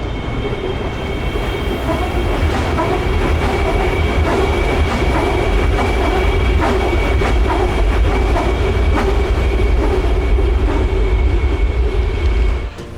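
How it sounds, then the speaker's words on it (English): A train rumbles past close by in Kuala Lumpur, Malaysia, loud and continuous, with rhythmic wheel clatter and a faint metallic squeal. "Here comes the train."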